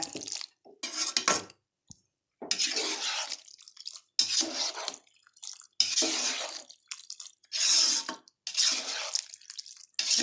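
Water is poured into milk in a pan while making restaurant-style white pasta sauce, heard as intermittent splashing and pouring bursts separated by short silences, close and moderately loud.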